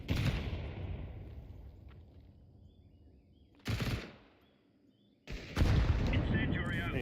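Video game combat with heavy booming blasts and bursts of gunfire, a loud rumbling explosion at the start, then two more sudden loud eruptions separated by quieter gaps.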